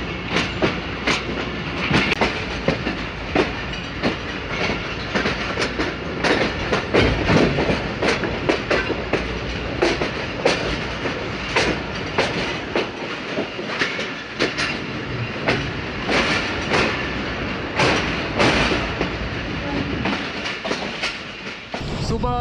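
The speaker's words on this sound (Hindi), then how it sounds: "171 अब सियालकोट एक्सप्रेस सियालकोट जाने के लिए लाहौर से रवाना हो रही है" The Sialkot Express pulls out of Lahore, its wheels beating a steady clickety-clack over the rails. Scattered sharp knocks and rattles ride on a continuous rumble.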